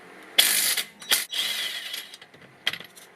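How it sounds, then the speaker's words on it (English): Short bursts from an impact gun rattle loose the lower brake carrier bolt on a VW MK6 Golf R front brake, three separate loud hammering zips close by with quiet gaps between, no voices. "We're getting the bottom one with the impact gun here."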